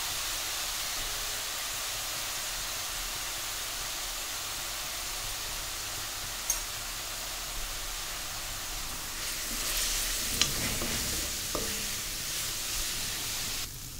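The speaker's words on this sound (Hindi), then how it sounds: "दो मिनट तक हम अच्छे से इसको भून लेंगे।" Steady sizzling of spices with turmeric frying in a hot pan, with occasional scrapes and clinks of stirring toward the end.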